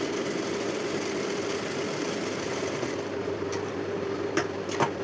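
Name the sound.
sewing machine stitching piping on a sleeve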